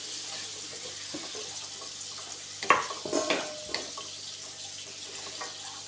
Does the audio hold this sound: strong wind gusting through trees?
no